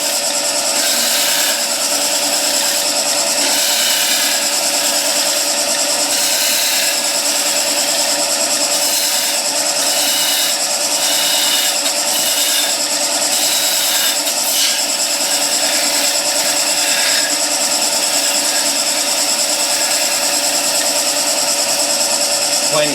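Wood lathe spinning a spindle while a skew chisel makes a peeling cut, a steady high motor whine with scraping, chattering cutting noise in short bursts, close and loud, with a voice speaking over it.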